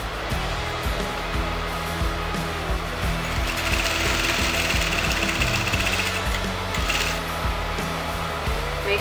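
A sewing machine stitches lehenga circle skirt panels together, running in a fast continuous mechanical chatter of needle strokes at close range with no one talking.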